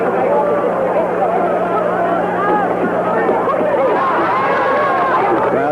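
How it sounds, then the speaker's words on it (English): A boxing crowd at the 1973 Muhammad Ali vs Rudi Lubbers fight keeps up a continuous excited roar and chatter of many voices throughout, over a low electrical hum. "The crowd got excited about the Lubbers left, which clearly hit Ali's right arm."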